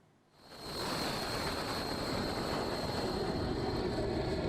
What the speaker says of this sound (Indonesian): jet tempur lepas landas dari kapal induk Amerika Serikat